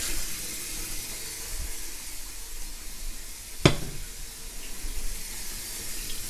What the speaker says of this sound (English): run the cold water.